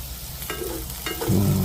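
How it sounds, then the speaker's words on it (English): Half a medium onion hits a hot pan for a shrimp and orzo pasta and is given a quick mix, two spoon scrapes followed by a sudden louder, steady sizzle. "dump my onions right in here. This is a half of a medium onion. And go ahead and just give that a little mix"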